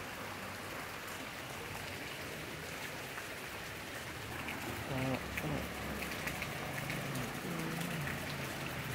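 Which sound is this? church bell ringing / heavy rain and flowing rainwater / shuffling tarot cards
heavy rain and flowing rainwater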